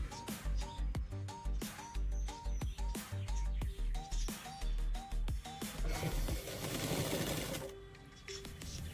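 Sewing machine stitching pleats into the lining of a South Indian style skirt, a loud close run of rapid rhythmic stitching bursts with short pauses, mechanical clatter throughout and no voices.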